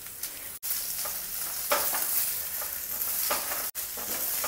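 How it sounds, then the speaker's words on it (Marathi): Onion and dried coconut roast in hot oil with fried masala for a Kolhapuri chicken dish, giving a steady close sizzle and frying hiss with occasional scrapes of stirring. "मी कांदा आणि खोबरं नेहमी एकत्रच भाजते मसाल्याला."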